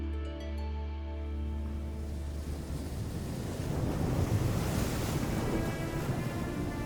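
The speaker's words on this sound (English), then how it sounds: "Enormous waves that reach a maximum height of 15 to 20 meters are thundering against the coast" Huge storm waves of 15 to 20 meters crash against the coast of Pico Island in the Azores, a loud continuous roar with wind that starts as a low rumble and grows heavier and denser.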